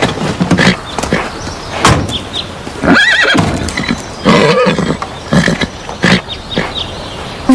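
A horse neighs with several loud, shrill whinnies close by, mixed with snorts and a few hoof clops in between.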